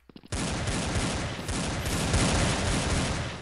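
Desert Eagle pistol fire in the shooter game Blood Strike, set in a snowy slum map: a few sharp cracks open into a dense, continuous roar of rapid gunfire that stays loud throughout.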